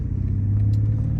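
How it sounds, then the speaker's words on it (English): A 2018 BMW M550i in Sport Plus mode gives a brief, steady low engine rumble with a firm, even drone, close and fairly loud, with no talk over it. "I do have the car in Sport Plus mode, so you guys can hear the car for what it's worth"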